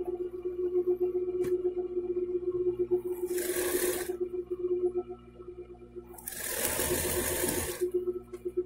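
Sewing machine stitching a double bedsheet with elastic, a steady hum with two bursts of rapid stitching, the second longer, heard up close without talk.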